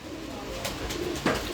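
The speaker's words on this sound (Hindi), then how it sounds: "तो ये एक कबूतर है जी।" A pigeon coos close by in a short, soft throaty burst, with a brief louder note near the end over a faint background murmur.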